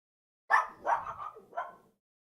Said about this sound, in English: Hear the dog barking?